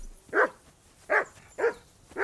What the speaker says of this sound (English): Hey, what do you want, dog?